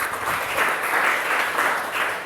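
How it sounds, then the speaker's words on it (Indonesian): A church congregation claps for Jesus during a sermon, a dense, steady roar of applause that stays even and fairly loud throughout the short burst, with no voices over it. "Berikan tepuk tangan bagi Tuhan Yesus."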